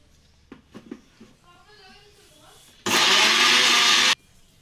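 A kitchen blender grinds dried taro leaves into a paste in one loud, steady whir of about a second and a half, after a few soft knocks and faint talk.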